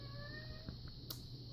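A cat lets out a single drawn-out meow, faint and fairly close in a quiet room, with a soft rising tone that fades after about a second.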